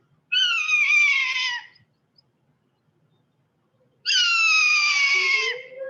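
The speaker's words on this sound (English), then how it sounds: "let's listen to what a Swainson Hawk sounds like" Two long, loud screechy calls from a Swainson's hawk at a raptor recovery display, each about a second and a half, near and clear with a quiet gap between them.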